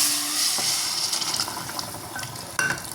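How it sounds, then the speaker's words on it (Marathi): Hot water is poured into a pot of dal khichdi, a continuous gurgling splash with faint sizzle and a few clinks against the pot, heard alone. "आता गरम पाणी, भरपूर असं गरम पाणी आपण यात टाकून घेणार आहोत."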